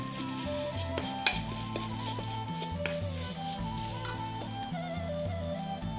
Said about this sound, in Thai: พริกแกงที่เขาตำนะครับเราก็มาคั่วกับน้ำมันเลยครับ